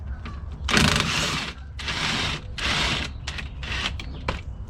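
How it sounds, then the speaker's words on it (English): A wrench ratchets repeatedly while disconnecting a sway bar link on a worn BMW Z3 suspension, several bursts of close metallic clicking separated by short pauses. "So let's go ahead and disconnect the sway bar link."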